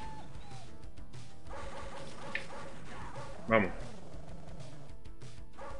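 Dogs in the NARC video game yip and bark a few times amid game noise, with one sharper burst standing out midway while someone talks over it.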